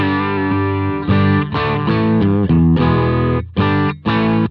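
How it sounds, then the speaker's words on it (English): Clean electric guitar played through a Cub Super 12 tube amp, chords and single notes with short pauses between phrases, warm and full with a slight edge. "Cub Super 12, it just sounds beautiful, and it sounds like this."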